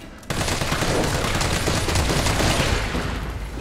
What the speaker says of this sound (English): Let's open up and hopefully I can get a few shots in.